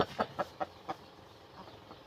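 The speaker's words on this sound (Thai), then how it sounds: "นี่เลย เจ้าไก่แจ้ครับ" A bantam chicken on a farm gives a quick run of four or five close, sharp clucks, then softer, scattered clucks over a quiet background.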